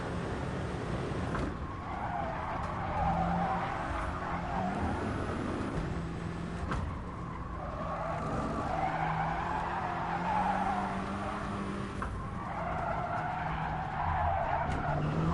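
A Gr.4 race car in Gran Turismo Sport understeers around the Nürburgring 24h circuit, its tires squealing and skidding in repeated loud bursts over a steady, close engine roar, with no talking.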